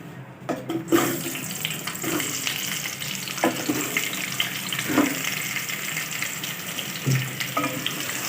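Peeled, pitted raw mango pieces hit a hot pan for sweet and sour launji, a steady watery sizzle with a few soft knocks and clinks from the pan, close and continuous, no voice.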